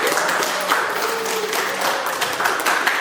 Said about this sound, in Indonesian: Oh ini Amanta, tepuk tangan semuanya.